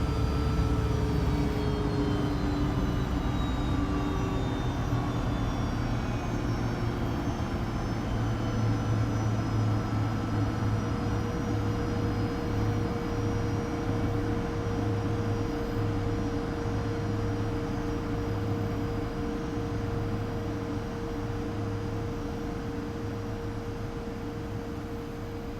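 Fokker 100 jet airliner taxiing out from the stand, heard from the cockpit as a steady, loud engine drone with broadband rushing noise and faint tonal whine throughout.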